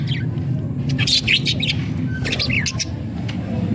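Budgerigars squawk and chirp from a clay nest pot, several sharp, scratchy calls in quick bursts over a steady low rumble, with faint human voices in the background.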